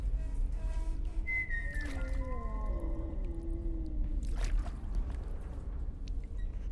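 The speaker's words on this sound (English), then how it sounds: "We're being whistled at." Eerie whistling in a horror video game: a thin, wavering whistled melody that slides up and down over a low droning ambience, followed by a brief airy swish, with no voices.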